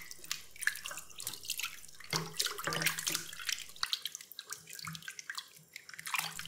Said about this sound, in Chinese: 然后把鸡爪和猪骨头清洗干净